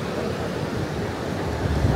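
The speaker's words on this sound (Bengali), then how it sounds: "সমুদ্রের গর্জন শুনতেই ভালো লাগে।" Sea waves roar at Kuakata beach on a rainy day. A dense, steady wash of surf fills the two seconds without a break, with no talking.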